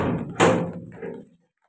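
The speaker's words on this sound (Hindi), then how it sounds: "दरवाजा बंद कर दिया" A door in a village house in Jharkhand is shut with a single close, solid thud, followed by a brief rattle before silence.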